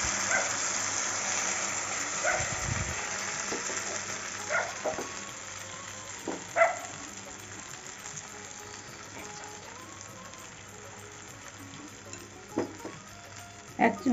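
A patishapta crepe with coconut and jaggery filling fries in an oil-brushed wok, giving a soft continuous sizzle. Occasional clinks and scrapes of utensils come through, and no one speaks.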